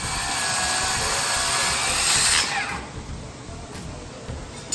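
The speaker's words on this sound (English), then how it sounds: "So we're cutting all of our rafters right now, making uniform dado grooves or 2-inch reliefs." A power saw cuts dado grooves, two-inch reliefs, into wooden rafters for a prom build: a loud, steady high whine that runs and then eases off after a couple of seconds, leaving a quieter droning background.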